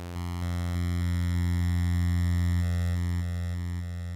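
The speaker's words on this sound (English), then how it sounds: "There is a delay. This creates an echo of the sound that you have created." A sustained synth tone from the Vital software synthesizer, run through a delay effect so echoes repeat after each note change, a smooth steady electronic sound with no voices.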